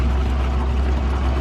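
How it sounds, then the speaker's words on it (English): Water from an RV macerator pump rushes through a sewer hose while the holding tanks drain, a constant loud low rumble with a churning hiss over it and no pauses. "You can hear the water running"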